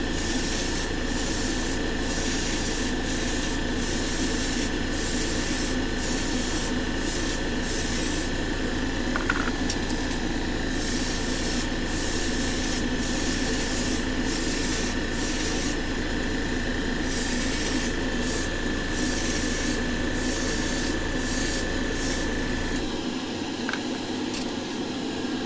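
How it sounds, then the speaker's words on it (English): Several airbrushes hiss steadily as paint is sprayed onto test spoons for candy color base coats, a continuous close airy spray with a faint mechanical hum beneath, cutting off near the end. "I like to run several airbrushes at once when I'm doing a lot of work"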